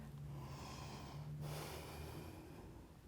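Slow, steady breathing during a yoga pose in an all-levels flow class, a continuous soft airy exhale with a brief sniff-like pause partway through, close and fairly quiet, no talking.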